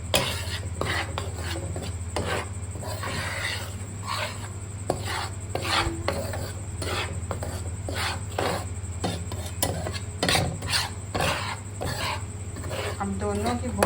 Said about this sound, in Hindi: आटे के साथ ही हमने इसको फिर से थोड़ा सा रोस्ट कर लेना है।